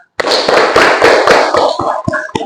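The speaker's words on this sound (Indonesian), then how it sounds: "Tepuk tangan untuk Aska" Classroom applause for a student, many hands clapping in a dense burst that runs steadily, then thins out into a few scattered, separate claps near the end.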